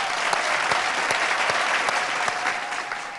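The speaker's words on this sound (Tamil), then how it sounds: "ஒரு நல்ல கைத்தட்டிடலாம்." A studio audience claps in a loud, sustained burst, with a thick wash of many hands and some sharper individual claps standing out, easing slightly at the close.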